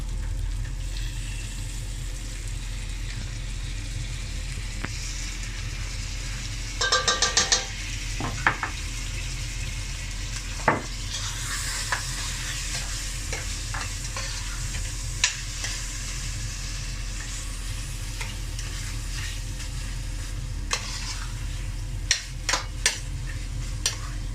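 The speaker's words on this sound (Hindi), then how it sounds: "अब टोमेटोज़ को हम ज़रा इसमें अच्छी तरह पका लें थोड़ी देर" Half a kilo of tomatoes and garlic sizzle steadily in a pan for a Lahori-style mutton karahi, with a few sharp scrapes and clinks of stirring, loudest around the middle, and no talking.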